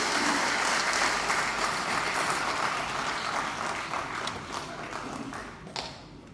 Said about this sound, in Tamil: உங்கள் அனைவரும் சார்பாக பலத்த கரகோஷத்தோடு அவர் வருகை வரவேற்கின்றோம்